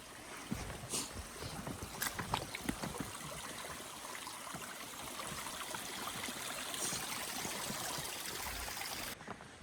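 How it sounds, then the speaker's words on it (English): Faint running water from a small creek along the Timberline Trail on Mount Hood, a soft continuous trickle and splash heard from a short distance, with a few brief knocks and taps early on. "I think I hear some running water coming up."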